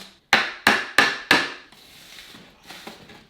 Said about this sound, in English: Just peeling the drywall right off the wall.